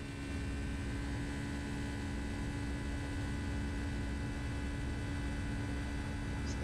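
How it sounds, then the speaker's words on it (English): Steady, droning airliner engine hum from the flight simulator X-Plane 11 sounds from a cockpit, loud and unchanging throughout with a broadband roar and no talking. "So the engine is pretty loud."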